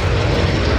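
A loud, steady roar of an aircraft engine as a plane flies overhead in the video game Modern Warfare, a continuous dense rumble with no voices.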